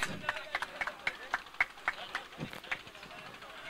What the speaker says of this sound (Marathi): टाळ्यांचा गजर असू द्या या सन्मानासाठी